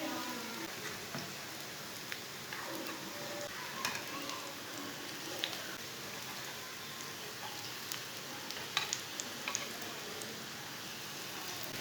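Besan and vermicelli kebabs fry quietly in a pan, a soft, even crackling hiss like light rain, with scattered tiny pops throughout and no talking.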